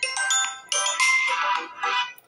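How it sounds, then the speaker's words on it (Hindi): A Vivo V25 phone plays one of its long system ringtones, a bright, loud melodic tone with repeated note bursts that carries alone for about two seconds before stopping abruptly. "सिस्टम रिंगटोन के नीचे की साइड आपको जितने भी रिंगटोन दे रखे हैं, इनका साउंड जो होता है लंबा होता है"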